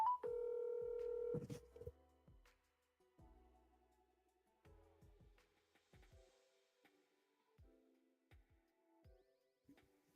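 A telephone being dialed for a quick call, a clear tone at the start followed by a series of soft, spaced button presses and clicks in a quiet room.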